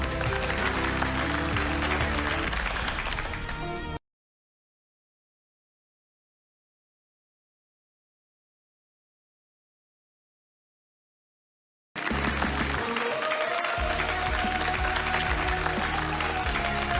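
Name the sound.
audience applause for president Fernando Ramírez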